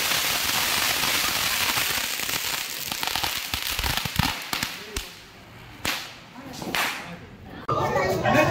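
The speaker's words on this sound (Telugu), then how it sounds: "కింద అపార్ట్మెంట్లో క్రాకర్స్ కాల్చుకుంటూ కూర్చున్నారు" Children set off firecrackers outside an apartment block, sharp whip-like bangs and crackling bursts repeating irregularly against a steady wash of background noise, some pops loud and close, others dull and spaced apart.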